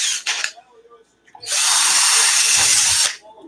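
A power drill bores 3mm screw holes in an ARRMA Kraton RC car part, with a short burst and then a loud sustained whir up close after brief rustling.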